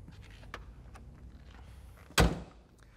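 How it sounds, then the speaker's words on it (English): After some quiet shuffling, the door of a 1989 Ford Mustang LX 5.0L convertible shuts with one solid, close thunk that fades quickly. "Again, the door closes nice and tight."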